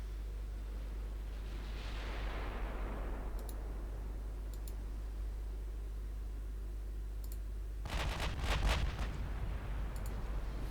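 Battleship guns fire and shells hit in the naval war game Ultimate Admiral Dreadnoughts, with an Italian fleet in 1960. A low steady rumble and scattered light clicks lead to a cluster of heavy booming shots near the end.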